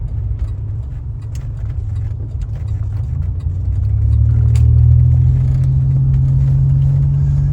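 A 1987 Buick Regal Limited turbo with a tweaked chip drives along, its engine a steady low rumble inside the car that swells louder partway through as it accelerates, with no talk.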